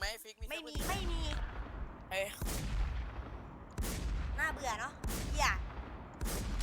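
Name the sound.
tank gunfire in armored warfare video game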